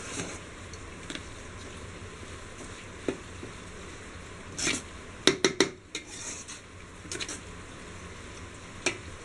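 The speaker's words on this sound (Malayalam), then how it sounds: "ഒന്ന് ഇളക്കി കൊടുക്കുക." A spoon clinks and scrapes against a metal pot while beef biryani mixture with freshly squeezed lemon juice is stirred, with several sharp metallic taps over a quiet kitchen background.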